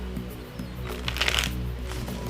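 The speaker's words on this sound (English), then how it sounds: "just shuffle the cards for you very quickly" Tarot cards shuffled quickly during a horoscope reading, a short close riffle and soft flapping over a steady low hum, with no talking.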